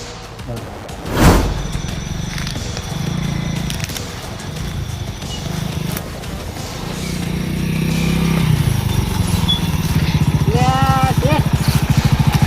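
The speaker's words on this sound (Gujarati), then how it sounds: "બાઇક બંધ કરો, બાઇક બંધ કરો" A motorcycle engine idles and then revs up, growing louder toward the end, with brief voices and clatter early on.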